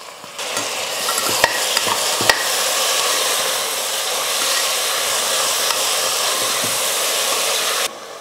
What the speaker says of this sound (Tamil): தக்காளி சேர்த்துக்கிறேன்.